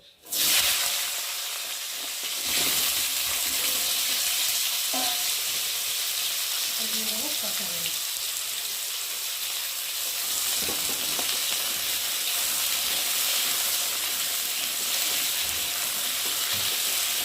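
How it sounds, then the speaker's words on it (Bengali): Potatoes and drumstick stems frying in oil in a pan with cumin, a steady loud sizzle and hiss that runs nonstop, with brief stirring scrapes early on and faint voices underneath. "এখন আমি কেটে রাখা সজনার ডাঁটা আর আলুগুলোকে দিয়ে তেলের মধ্যে ভালো করে ভেজে নেব"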